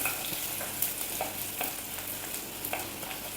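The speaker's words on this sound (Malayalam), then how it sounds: "ചെറിയ ഉള്ളി ഇട്ട് ചെറുതായിട്ടൊന്ന് വഴറ്റിയതിന് ശേഷം" Small onions and fenugreek sautéing in oil, a constant moderate frying hiss with occasional soft utensil scrapes against the pan.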